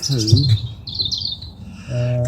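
Birds chirp and twitter outdoors during a countryside field walk, bright high calls sounding at moderate distance while people talk nearby.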